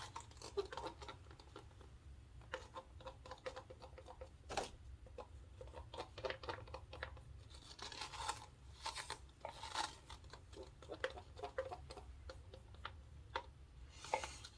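Acrylic paint being scraped out of a cup for a pour on a 16-inch bamboo tray, faint irregular ticks, scratches and soft rasping strokes close by, with a few louder clicks.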